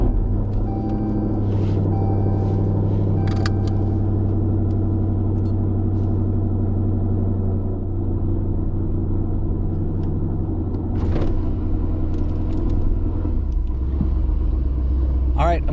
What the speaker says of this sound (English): With an interior cold start.